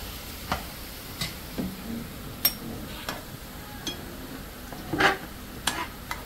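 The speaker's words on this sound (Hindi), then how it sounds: "इसको बिल्कुल अच्छे जो डार्क ब्राउन होते हैं ना, क्रंची टाइप, उस टाइप के इसको फ्राई करने रहते हैं" Spices frying to a dark brown crunch in a pan: a soft, steady sizzle broken by evenly spaced light spatula taps and scrapes, fairly quiet and without speech.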